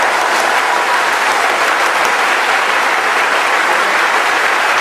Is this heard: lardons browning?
no